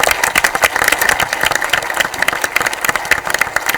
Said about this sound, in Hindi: लगातार तालियां आपकी बजती रहें।